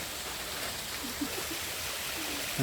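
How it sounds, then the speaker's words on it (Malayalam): A small waterfall in a cold forest stream near a hilltop viewpoint sends up a steady, moderate rush of falling water, constant and unbroken with no voices. "നമ്മൾ പോയിക്കൊണ്ടിരിക്കുന്ന സ്ഥലത്ത് ചെറിയൊരു വെള്ളച്ചാട്ടമുണ്ട്."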